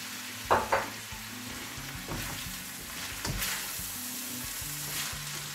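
Chicken chow mein sizzling in a pan with soy sauce and sesame oil, a steady quiet frying hiss broken by a couple of sharp clacks and stirring scrapes.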